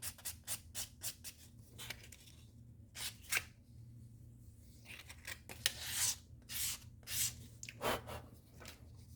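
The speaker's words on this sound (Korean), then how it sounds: "모서리 부분을 약간 기울여서 이렇게 다듬어 주는 거죠" Edge of a leather designer bag being trimmed and smoothed during restoration, close-up rapid scraping and rasping strokes in quick irregular bursts with short pauses, quiet and without speech.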